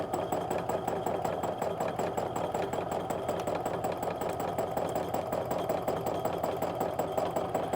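A home sewing machine stitches a quilt border, its motor running in a steady, even mechanical whir with rapid regular needle pulses throughout, close and moderately loud.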